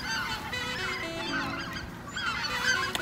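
A flock of geese honking continuously, several calls overlapping at close to moderate distance, steady and busy throughout with no talking.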